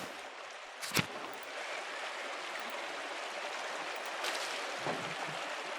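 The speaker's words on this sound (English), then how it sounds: "The waterfall is always so beautiful." A waterfall in the game Pentiment, a steady, even rush of falling water with faint splashes and a few soft knocks. No one speaks.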